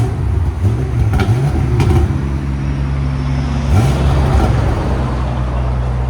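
Modified German V8 with its exhaust valves shut, revving through a few strong, rising and falling pulls at close range, a deep engine drone that stays loud throughout with no talking.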